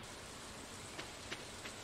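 Steady hiss of rain falling in Stardew Valley, even and continuous, with a few faint pops of drops landing.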